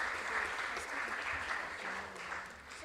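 Audience applause at a regional junior science and maths quiz contest, a steady continuous wash of clapping from a crowd at moderate distance, lasting the whole stretch with a faint voice beneath.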